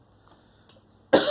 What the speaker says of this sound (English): Excuse me, I still got this cough.